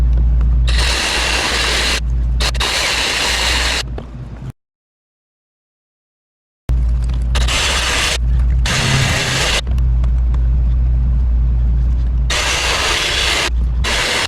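A Sawzall reciprocating saw cuts open a car fuel filter with a loud, harsh buzzing in long runs. The saw stops for a couple of seconds of silence, then resumes with several more bursts.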